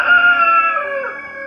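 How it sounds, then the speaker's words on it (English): Roosters fighting in a snowy poultry yard, with one loud, close, strained crowing call that sags in pitch and fades over about a second and a half. "Oh, look, there are roosters fighting."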